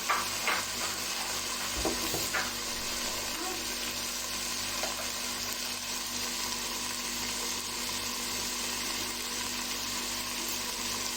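Tomatoes and green chillies cook in a pan with a steady, even sizzle, plus a few stirring clinks near the start, close and constant.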